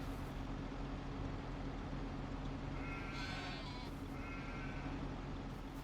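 Sheep in the sheep barns of a farming video game let out two short bleats, one longer and one quicker, over a constant low mechanical hum.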